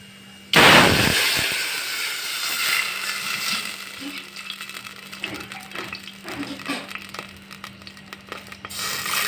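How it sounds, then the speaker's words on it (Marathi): Water hits a hot pan of tempered mustard seeds and cumin with a sudden loud whoosh and hiss, then settles into a long, steady sizzle with scattered crackles as the spluttering continues. "पाणी टाकूया"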